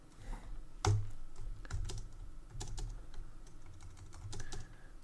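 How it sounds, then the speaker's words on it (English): Typing on a computer keyboard while coding VBA in Microsoft Access or Excel: close, uneven clatter of key presses in quick clusters, with a few sharper louder strokes, no talk. "sorry, I'm typing here"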